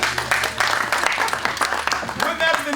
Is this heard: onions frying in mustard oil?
no